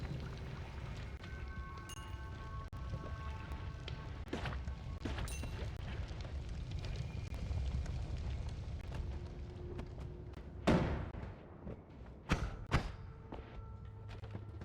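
A bomb goes off in the pixel-physics game Noita, a sudden low boom and thud about two thirds through, followed by smaller thumps and crumbling debris over a busy ambient bed.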